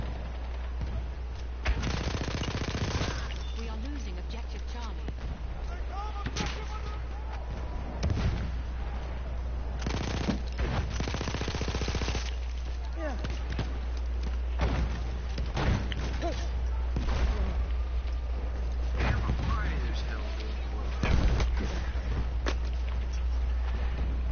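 Rapid trench shotgun blasts in Battlefield 1 gameplay, dense booming shots and explosions layered over constant battlefield noise, loud and near with a steady low rumble throughout.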